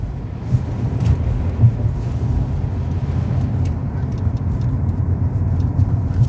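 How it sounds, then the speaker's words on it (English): Steady low rumble of a non-AMG Mercedes-Benz car driving through Snowdonia during Storm Bert, a continuous road and engine drone with buffeting noise and no speech. "This car handles just so well. I never thought I'd say this about a Mercedes-Benz, especially a non-AMG one."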